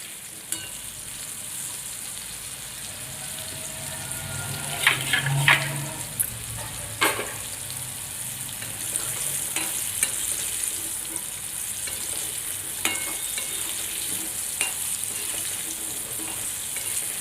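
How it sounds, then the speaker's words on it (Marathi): Paneer pieces frying in a pan over a low gas flame, a soft steady sizzle with occasional spatters and the scrape of stirring, close by with no voices. "तुम्ही बघू शकता छान फ्राय झालेले आहे इथे पनीर।"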